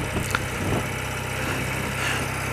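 An old motorbike engine runs at a steady idle close by, its low, even throb continuing without a break and with no voices over it.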